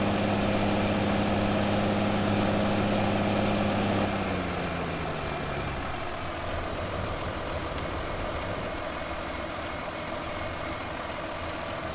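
A diesel tractor engine idles in Farming Simulator 2015 on the Sandy Bay map, a loud steady low drone that shifts down to a rougher, quieter idle partway through, with no talking.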